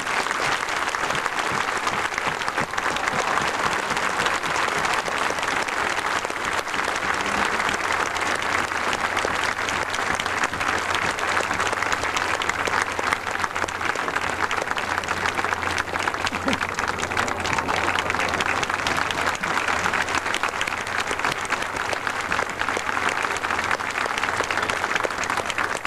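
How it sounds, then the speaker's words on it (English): A large audience gives a final round of applause at the end of an event, dense, continuous clapping that stays at a steady, loud level throughout. "Could we now ask for a most deserving round of final applause for Marion and Benny?"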